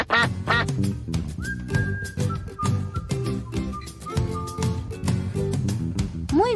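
Duck quacking in a children's animal-sounds quiz, a series of loud nasal quacks set over continuous background music, no voices.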